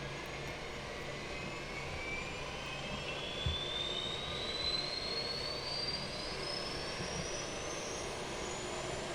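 CRJ 550 auxiliary power unit spooling up inside a flight simulator game, a soft, steady jet-like whoosh with a rising whine climbing gradually in pitch throughout, heard alone and fairly faint.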